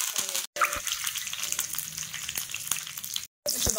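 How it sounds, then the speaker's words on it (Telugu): Mustard seeds, cumin and dried red chillies crackle and sizzle in hot oil in a kadai, a steady close frying hiss with brief dropouts, for a ridge gourd and tomato chutney. "ఇప్పుడు మనము పోపు పెట్టుకుందాము. స్టవ్ మీద మూకుడు పెట్టుకుని కొద్దిగా ఆయిల్ వేసుకుని, ఆయిల్ కాగిన తర్వాత కొద్దిగా ఆవాలు, కొద్దిగా జీలకర్ర"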